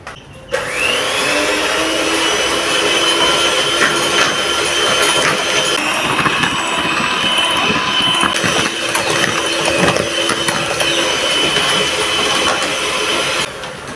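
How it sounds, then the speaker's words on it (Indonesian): An electric hand mixer beats a granulated sugar mixture for cromboloni dough, a loud continuous whirring motor drone with gritty rattling of beaters against the bowl that runs steadily throughout, with no talk. "Kita bakal mixer dulu ya."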